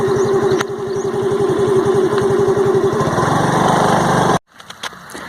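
Scooter engine running at a steady, buzzy idle close by in a home garden, growing slightly rougher before cutting off abruptly, leaving faint clicks afterward.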